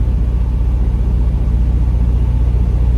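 A truck pulls out on a Florida road, its steady low engine rumble loud and continuous throughout, with no talking.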